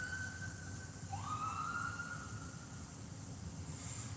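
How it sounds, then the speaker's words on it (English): A distant ambulance siren wails faintly in the Bronx, New York, its tone sliding upward once, heard over a steady low rumble of traffic or wind from a flatbed truck. "Ambulance over there."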